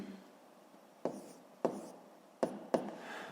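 A maths solution is written out by hand, with four distinct tapping strokes of a pen or chalk spaced irregularly over a quiet room hush, no speech.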